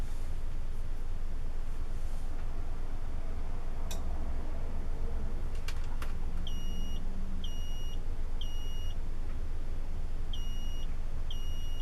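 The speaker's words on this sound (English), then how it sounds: "You see the beeping?" A smoke detector converted into a water alarm, set off by water, gives a series of short, high-pitched electronic beeps in an evenly spaced pattern over a steady background hiss, with no one talking.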